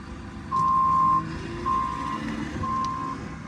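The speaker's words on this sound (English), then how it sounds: "We got a loader driver." A loader sounds its reversing alarm at a vehicle salvage yard, giving three loud, steady electronic beeps, each roughly half a second to a second long, over a low engine hum.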